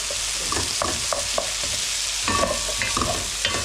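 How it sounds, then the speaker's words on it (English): Onions frying with ginger and garlic are stirred in a pan for a lamb tagine: a steady close sizzle broken by repeated scraping strokes and knocks of the spoon, with no voices. "Give that a good mix around."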